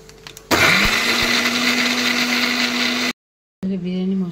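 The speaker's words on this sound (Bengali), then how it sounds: "এখানে এবারে আদা রসুনটা পেস্ট করে নেবো" An electric blender grinding ginger and garlic into paste for a biryani marinade switches on with a loud, steady motor whine for a few seconds, cuts out briefly, then starts again.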